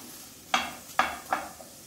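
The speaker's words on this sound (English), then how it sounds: "So I just want to soften the onions." Onions softening in a pan for cauliflower curry, a faint background sizzle punctuated by three distinct scraping stirs about half a second apart, near and unaccompanied by speech.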